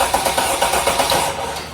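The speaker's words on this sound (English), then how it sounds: "The engine is cranking." The engine of a Sprinter van with a misfire is cranked over by the starter, giving a steady, rapid rhythmic chugging that is loud and close throughout, with no talking.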